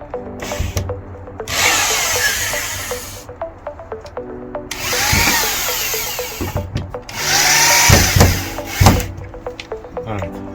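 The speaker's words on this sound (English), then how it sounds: "I'm just gonna put in the other two screws and then" A power drill drives screws into a metal line pole bracket for a fence, with whirring bursts of a few seconds each, separated by short pauses and clicks, close and loud.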